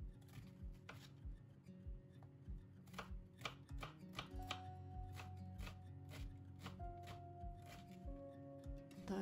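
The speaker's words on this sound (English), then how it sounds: "I am now going to slice up an onion" A knife slices through an onion on a cutting board, a run of crisp, close chopping strokes in an irregular rhythm, quiet overall, with some light clatter of kitchen items and no speech.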